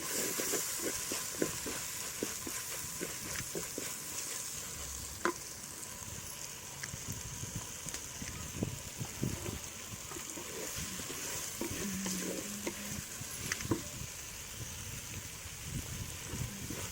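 Onion, tomato, garlic and curry leaves sizzle steadily in a pan for fish kuzhambu, with occasional spoon scrapes and stirring clatter over a continuous frying hiss, close up and with no talk.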